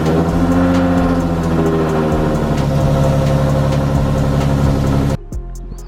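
A 2014 Mustang's engine runs at a steady, loud idle with a low rumbling drone and faint periodic ticks, then drops abruptly to a quieter hum near the end.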